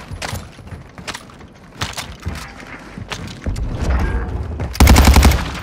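Rapid bursts of gunfire in a multiplayer shooter game, scattered shots and cracks building into loud, dense automatic fire near the end, with brief mechanical clatter between volleys.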